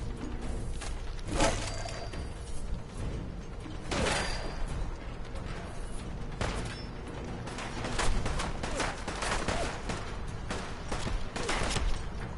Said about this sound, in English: Please stop shooting me.